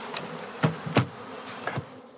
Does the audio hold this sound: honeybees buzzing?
yes